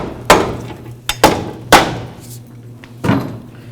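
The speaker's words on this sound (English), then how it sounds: "So now I'm just going to take my rubber mallet." Rubber mallet blows on the front axle of a 2003-2009 Toyota 4Runner: four sharp, separate knocks about a second apart, close and loud, with a low steady hum underneath.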